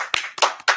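Several sharp hand claps close by, spaced in a loose rhythm of three or four quick bursts over under a second, with no talk.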